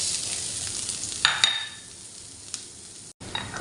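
Onions dropped into hot cooking oil in a pan for stir-fried chicken breasts hiss in a loud, close, steady sizzle with a couple of utensil scrapes; it eases slightly and briefly cuts out near the end.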